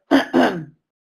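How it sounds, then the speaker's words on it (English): A single close, two-part throat clearing: a short rough rasp followed by a longer one, then silence. "you're going to clear your throat and go"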